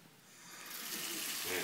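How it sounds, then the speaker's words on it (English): Water runs from a bathroom tap into a sink, a soft hiss that starts quietly and grows steadily louder over a brief moment, with no talking over it. "Turn on the water."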